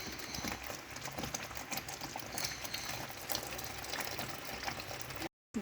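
Cooking water poured into a pan of frying onions and oil on a home stove, a steady splashing, sizzling wash that runs nearly continuously and fairly close before a brief dropout at the end.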